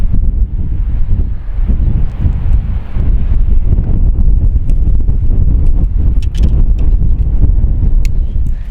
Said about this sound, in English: especially in windy conditions like today